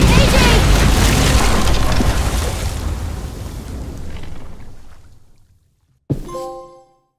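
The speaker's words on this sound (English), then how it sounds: "Shit, the bomb!" A bomb blast in The Walking Dead game, a heavy roaring explosion that rolls on for several seconds and dies away, followed by a short bright metallic ring.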